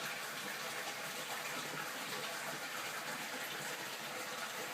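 Running water from a pump filling a cichlid aquarium tank with fresh water during a water change, a steady, even gushing rush without pauses, fairly soft and close by.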